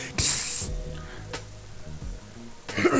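Pepper spray being sprayed, heard as short loud hissing bursts near the start and end with a brief spurt in the middle, over a low background of rumble and faint voices.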